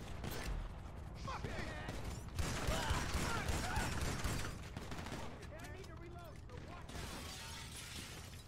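Shotgun blasts and other gunfire ring out during a heist in Grand Theft Auto, dense loud bursts mixed with shattering and crashing game sounds, with a voice talking faintly underneath.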